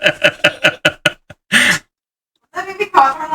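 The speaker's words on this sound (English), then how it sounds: "That made me cough from laughing?" Someone laughs in quick rhythmic bursts, then gives one harsh cough, and voiced laughter resumes after a short silence; close and loud.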